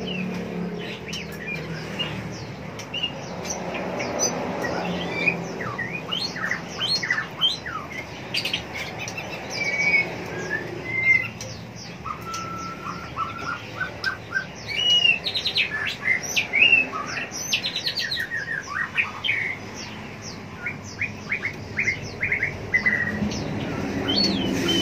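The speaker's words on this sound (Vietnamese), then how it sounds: "Chè lửa nó hót, âm thanh nó hay lắm các bạn." A white-rumped shama sings inside a busy bird shop, its bright whistled phrases and chirps repeating over about twenty-five seconds amid other birds calling around it, fairly close and lively.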